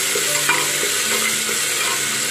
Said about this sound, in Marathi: मोहरीनंतर अद्रक लसणाची पेस्ट आपण घातली, चांगलं हलवून घेऊया तेलावर